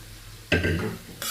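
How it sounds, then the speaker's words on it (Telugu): Chana dal tips into a ridge gourd curry, followed by a sudden close clatter and sizzle as a spoon stirs the pan, then a brighter scrape near the end. "ఇప్పుడు ఈ పప్పు ఇందులో యాడ్ చేస్తున్నాను చూడండి."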